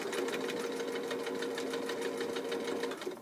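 A sewing machine back stitches along a shorts seam, a steady rapid mechanical chatter running close and unbroken for a few seconds before slowing at the end, with no voices.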